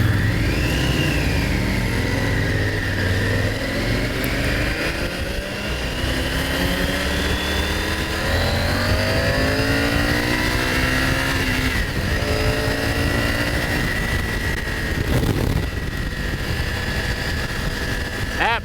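A 2022 Triumph Tiger 900 GT motorcycle pulls hard under acceleration, its engine note rising and shifting through gears, loud and close with steady wind roar throughout, while a rider talks over it.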